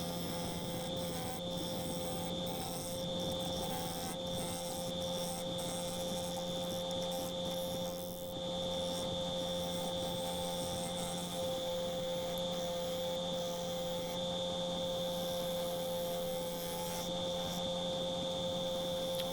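A small walnut bowl spins on a wood lathe at 2,300 RPM. It gives a steady, even drone and whine with constant tonal hum throughout and no pauses. No one speaks.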